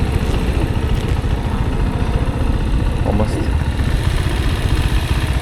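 A motorcycle engine runs steadily with a dense low rumble and faint knocking, heard up close during a ride through China, with someone talking briefly over it.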